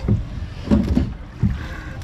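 Oars working a rowboat on a park lake in Madrid, a few rhythmic low splashing strokes close by under gusty wind on the microphone.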